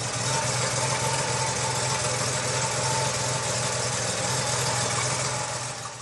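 An air-cooled Porsche flat-six engine runs steadily at a constant idle, a close, even mechanical hum and rumble with no talk over it.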